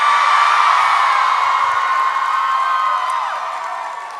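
A large convention audience at a MegaCon Torchwood panel screams and cheers loudly and continuously, a dense wall of high-pitched shrieks that slowly tapers off.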